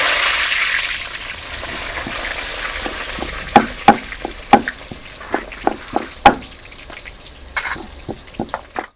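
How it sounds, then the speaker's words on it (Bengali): Eggplant frying in oil in a pan for a village-style shukto, a steady soft sizzle broken by sharp popping crackles that grow more frequent and close, with no talking. "বেগুনটা ভেজে নেবো।"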